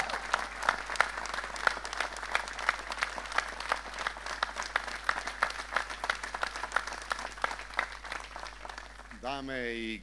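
Sustained applause from a large crowd at a political party's closing convention greeting a speaker, dense and steady clapping for several seconds before fading as a voice begins over a microphone.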